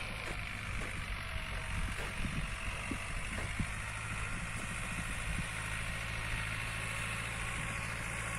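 Tractor engine running steadily in a corn field during pest spraying, a low continuous drone with a 16-metre sprayer boom, mid-distance and fairly quiet, no talking.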